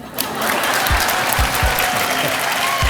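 Studio audience on a Hindi TV show breaking into applause, a full, steady burst of clapping that starts abruptly and holds for several seconds, with a few low thumps underneath.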